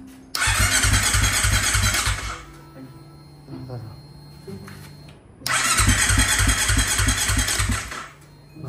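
A Kawasaki Ninja 250 Fi whose rebuilt engine is hard to start cranks twice, each a loud two-second whirring starter burst with a rapid pulsing rhythm, separated by a quieter gap with faint voices.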